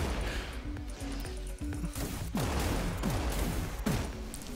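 Rapid game weapon fire from a rocket launcher in the sci-fi shooter Wrack: Exoverse, a loud stream of repeated blasts and crashes with swooping descending tones, dense and close throughout.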